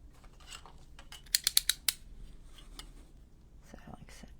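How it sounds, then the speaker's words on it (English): A craft blade cutting through a junk journal cover made from a Little Golden Book, heard as a quick run of four or five crisp, close scraping cuts, with soft handling and faint breathy sounds around them. "And then I'm just going to cut it with my blade."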